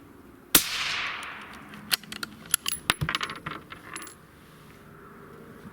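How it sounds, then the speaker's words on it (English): A single sharp rifle shot from a 22-250 bolt-action rifle cracks loud and close outdoors, followed by a decaying echo and a scatter of small clicks and taps afterward. "Final shot."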